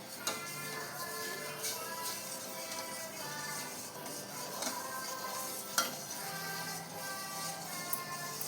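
Sugar syrup for gulab jamun bubbles in a pot while being stirred, a soft continuous seething with occasional scrapes and clinks of the spoon against the vessel, fairly quiet and close.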